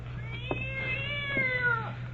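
A cat meows several times in a row in an old-time radio crime drama, the calls rising and falling, fairly clear over a low steady hum.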